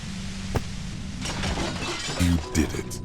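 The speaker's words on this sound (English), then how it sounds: "The compressor lies broken on its side." A compressor machine is smashed in the video game Disco Elysium: a sharp crash and metallic, glassy shattering with clinks, over a low droning backdrop, plus a voiced interjection midway.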